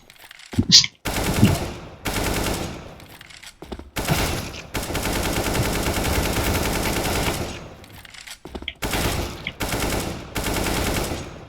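Rapid automatic gunfire from a shooter video game during aim training, fired in loud sustained bursts separated by brief pauses, with short single shots between.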